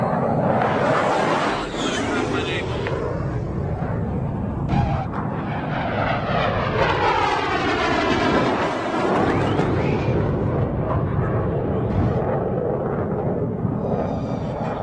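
A military fighter jet roars past during a Red Flag exercise, a loud, sustained engine thunder whose pitch sweeps audibly as the aircraft passes, dominating the sound throughout.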